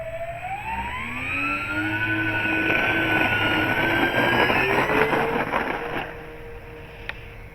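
A de Havilland Twin Otter in a flight simulator game with takeoff flaps set roars down the runway and into the air, a loud steady engine drone rising in pitch, with a high whine and a brief click near the end.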